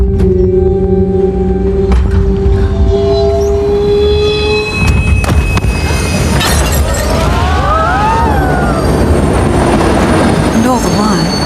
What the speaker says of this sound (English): And all the while, you're on the train home.